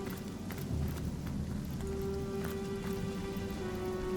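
Rain pours in the fantasy role-playing game Divinity: Original Sin Enhanced Edition, a steady dense hiss of falling drops with a faint sustained tone beneath, continuous and moderately loud.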